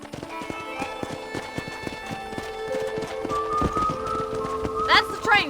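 Horse hooves clip-clop at a steady trot in the Red Dead Redemption video game, a regular rhythm of close hoof taps running under sustained music, with a brief whinny near the end.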